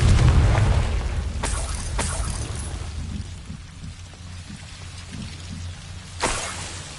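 The Confringo blasting spell in Hogwarts Legacy bursts in a deep, booming explosion, which then trails into a rumbling, crackling rain of debris. Sharp impacts break through the fading noise, and a second burst hits near the end.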